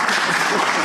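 Brief burst of applause from an audience at a congressional hearing, dense and steady for under a second.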